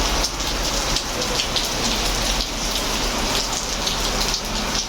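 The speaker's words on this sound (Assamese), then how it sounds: "ইমান বৰষুণ দি আছে" Heavy monsoon rain falls steadily outdoors, a dense, loud, unbroken hiss of drops pattering on surfaces with no voices and no thunder standing out.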